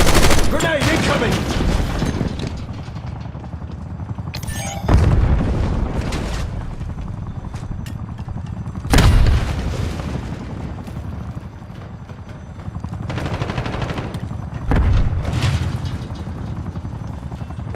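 Video game gunfire and grenade explosions in a first-person shooter, with loud bursts of shooting and booming blasts recurring every few seconds over a continuous rumbling battle background.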